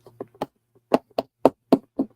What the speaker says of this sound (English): is there a midget knocking at the door?